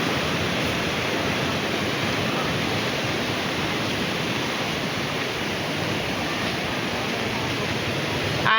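Water rushing and overflowing from a nearly full dam in Bicol: a steady, loud, broadband roar of churning water that continues unbroken throughout, with no clear voices.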